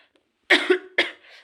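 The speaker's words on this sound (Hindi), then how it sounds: "थोड़ी तबीयत ठीक नहीं है तो इसलिए बार बार खांसी आ रही है।" Two sharp, close coughs in quick succession, the second followed by a brief rasping exhale.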